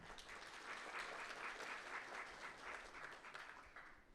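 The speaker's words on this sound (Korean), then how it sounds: "다시 한번 큰 박수 부탁드립니다" Steady, even applause from an audience at a Korean IT venture cloud platform launch ceremony, distant and fairly quiet, continuing without a break across a few seconds.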